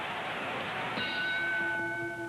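A boxing ring bell sounds between rounds of a Louis versus Marciano heavyweight bout: one clear ringing strike that hangs and fades under crowd noise.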